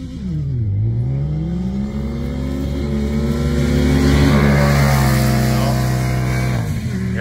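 A Yamaha YXZ 1000R and a Can-Am X3 Turbo S side-by-side drag race, engines droning loud and steady with a rising, shifting pitch as they accelerate, fading slightly at the end.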